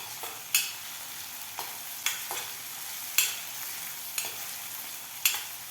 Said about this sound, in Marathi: इथे आता कांदा आणि लसूण छान आपल्याला सोनेरी रंग येईपर्यंत परतून घ्यायचा आहे